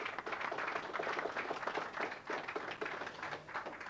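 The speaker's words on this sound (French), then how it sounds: "qui est là d'ailleurs, on peut l'applaudir" A crowd at the Gants d'Or awards ceremony applauds a trainer, with dense, steady clapping close and loud throughout, no voices over it.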